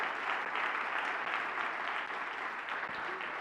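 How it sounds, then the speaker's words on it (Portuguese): A church congregation at a Sunday service applauds, a broad wash of clapping that stays even and fairly distant for a few seconds. "Aplauda o Senhor."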